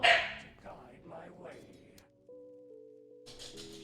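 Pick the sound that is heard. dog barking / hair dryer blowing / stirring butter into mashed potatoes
dog barking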